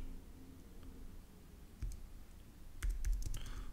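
Keys clack on a computer keyboard during interface programming. Scattered light taps come first, then a quicker burst of close, clicky typing near the end, with no talking.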